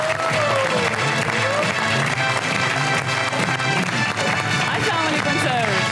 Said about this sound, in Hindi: आपकी भरपूर तालियों में ताहिर शहीद।